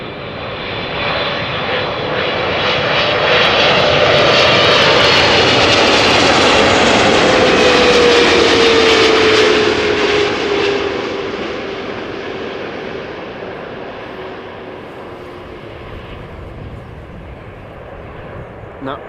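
A Boeing 777-300 jet arrives at Amsterdam Schiphol, its engine roar swelling loud and close, peaking mid-pass with a descending whine, then fading slowly into the distance.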